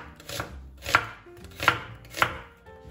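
A knife chops vegetables on a board for vegan humita empanadas, with four distinct sharp cuts in an even rhythm, close and clear with no talk.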